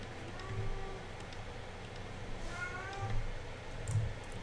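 A cat meows repeatedly, several short close cries spread across the moment over a quiet room background, with a voice talking faintly.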